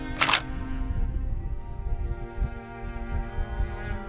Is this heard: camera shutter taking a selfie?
yes